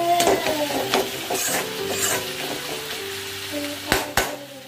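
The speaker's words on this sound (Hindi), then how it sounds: "अब टमाटर के साथ इन सारे सूखे मसालों को हमें अच्छे से भून लेना है" Tomato and dry spices, coriander powder among them, fry in a pan in a home kitchen with a steady close sizzle. A few sharp clatters from stirring come near the end, and no one speaks.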